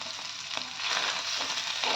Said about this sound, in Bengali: এভাবে প্যাচুলা দিয়ে নাড়াচাড়া করলে পনিরগুলো একটুও